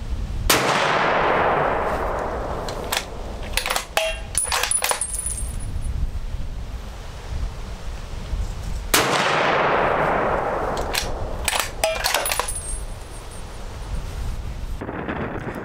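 An old Ruger rifle chambered in .30-06 fired at a 50-yard target outdoors, two loud sharp shots about eight seconds apart, each with a long fading echo, followed by metallic clinks.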